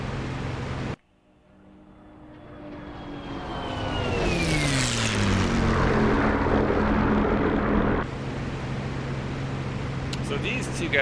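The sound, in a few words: Bf-109 airplane engine in a video game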